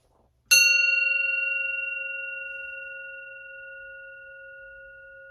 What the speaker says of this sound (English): I think this is a good time for the good luck bell.